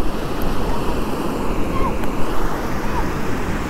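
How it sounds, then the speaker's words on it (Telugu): Floodwater from heavy rains rushing forcefully along a road, a dense, steady roar of turbulent water close by with wind buffeting, continuous and loud. "చాలా ఫోర్స్ ఉన్నాయి నీళ్ళు"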